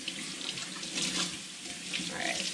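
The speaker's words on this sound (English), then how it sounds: "so to rinse it, I'm just gonna turn on my warm water" Warm water runs from a sink tap in a steady, close rushing stream, with no voices.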